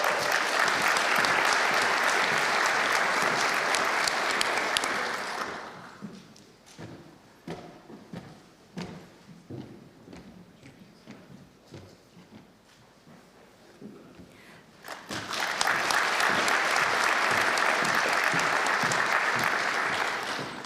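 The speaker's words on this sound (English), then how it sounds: "Do you know you're going to get exhausted clapping?" Loud applause from an audience at a University of Galway graduation ceremony, which drops to scattered claps for several seconds and then swells again into full clapping.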